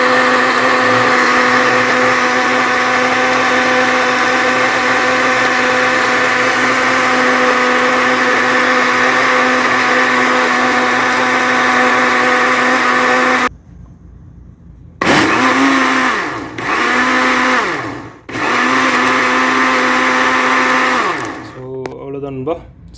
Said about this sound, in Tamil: மிக்சியில் அடிச்சிடுறேன்.